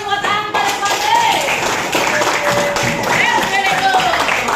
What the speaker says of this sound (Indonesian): Beri tepuk tangan buat Anto dan Fadli.